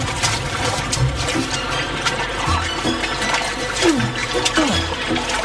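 Water churns and splashes steadily as cartoon animal characters leap in and thrash about, a continuous close watery wash with a few gurgling dribbles.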